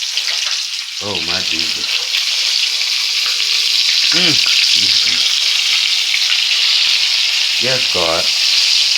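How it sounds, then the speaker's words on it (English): Oyster mushroom vegan fish bites fry in hot grease with a loud, dense, continuous crackle and hiss close by. A voice speaks over it in short exclamations. "So that's why I'm frying,"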